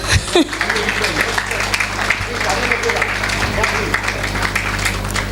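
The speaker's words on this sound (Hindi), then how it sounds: "तालियां।" Applause from an audience at a welcome event in Juhu, Mumbai, honoring women on stage; sustained clapping fills the whole stretch with a low hum and scattered voices mixed underneath.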